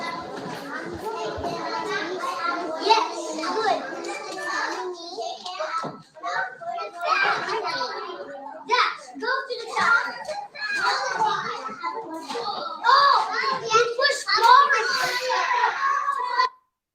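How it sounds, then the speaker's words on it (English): Two children play with robots in a classroom, chattering and calling out excitedly throughout, with continuous lively kid voices and occasional handling noises. "So we see two kids playing with robots"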